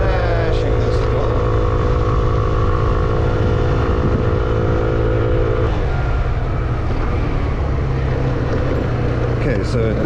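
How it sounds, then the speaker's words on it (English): A SYM Orbit 2 scooter engine drones steadily as it climbs slowly up a steep, winding hill in South Africa. The engine note is loud and close, with wind noise rushing over it. "the scooter just kept accelerating very slowly up the hill"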